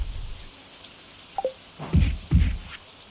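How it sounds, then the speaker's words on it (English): Rain falling steadily in the video game Stardew Valley, a soft continuous patter with a couple of low rumbling thuds and a brief chime over it, fairly quiet with no talking. "And it's still raining."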